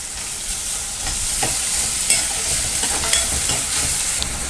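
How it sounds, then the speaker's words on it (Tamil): Onion and carrot sauté in a pan for a Tamil rice kozhukattai, a steady close sizzle with scraping stir strokes spread across it, no voice. "பெரிய வெங்காயம் நல்லா வதக்கிக்கலாம். வதக்கிட்டு இப்போது கேரட் ஆட் பண்ணிக்கலாம்."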